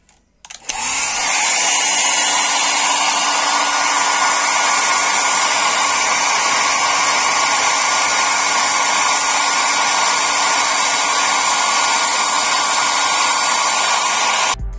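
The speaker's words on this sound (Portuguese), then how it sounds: "eu vou usar aí um secador de cabelo." A hair dryer switches on and runs with a steady, loud, close whooshing hum and a constant whine, used on a Midea mini fridge door, continuing alone without talk.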